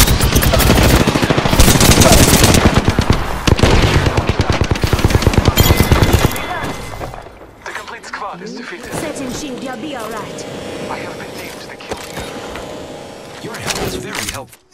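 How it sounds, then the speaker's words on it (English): Rapid automatic gunfire in the video game Apex Legends hammers loudly for several seconds, then gives way to quieter game sounds and scattered shots, with a voice heard briefly. "Taking fire, friend."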